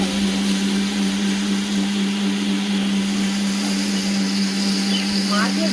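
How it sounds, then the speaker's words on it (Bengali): A mixer grinder grinding spices hums steadily with a continuous motor whine in the background, its level unchanging throughout, while faint indoor noise sits beneath it. "ওদিকে মিক্সচার থেকে আওয়াজ বেরোচ্ছে।"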